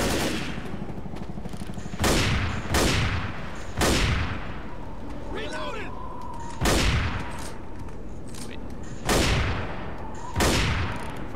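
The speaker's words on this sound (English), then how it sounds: "Fire the howitzer. In other words, the big ass cannon." Heavy howitzer cannon shots boom at roughly even intervals in the video game Left 4 Dead, seven loud close blasts, each with a sharp crack and a fading tail, over steady background rumble.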